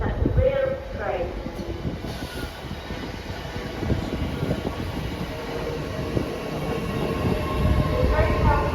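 A train approaches a platform at York station, its low rumbling roar and rattling wheels building steadily and growing louder, with brief higher squeals and station ambience and a faint announcement voice near the start.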